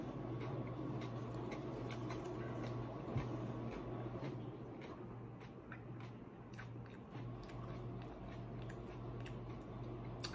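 Wet, crunchy chewing of a sweet, watery, juicy hot pepper, close to the mouth, with repeated bites and squelches over a low steady background hum.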